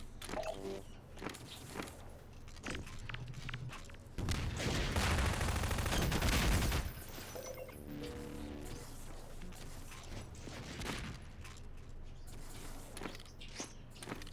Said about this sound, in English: Really powerful shotgun there by Sword.